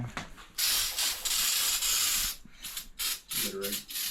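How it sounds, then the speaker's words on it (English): Brake cleaner sprayed onto parts in the engine bay of a 1966 Ford Mustang, long loud hissing aerosol blasts near the mic broken by short pauses, ending in a couple of brief sputtering bursts. "you want to take some brake clean and spray it off."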